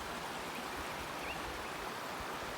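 A river flows beneath a bridge near a waterfall at a botanical garden, a steady, broadband rushing of water that stays constant and fairly faint throughout, with no voices.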